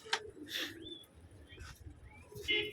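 Pigeons in a loft, heard as a few soft coos and short calls at moderate distance, with brief wing flutters and rustles scattered between them.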